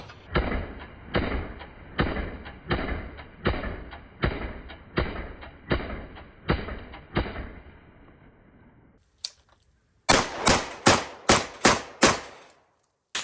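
A Genesis 12 competition shotgun fires slugs at an IPSC target 100 yards away, giving about eight evenly spaced heavy booming shots, each with a short decay, followed after a pause by a faster burst of sharper reports.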